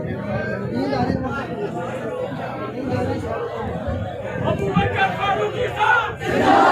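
A crowd at a religious gathering shouts a loud, massed chant in response to a call of Nara-e-Takbir, sustained voices swelling through the whole stretch.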